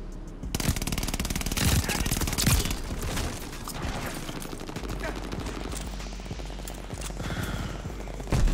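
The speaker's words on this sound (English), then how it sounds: "I think I got a damn ball turret gunner" Sustained rapid machine gun fire from a ball turret gunner killstreak in Call of Duty Vanguard, a dense rattling barrage lasting nearly the whole stretch, loud and close.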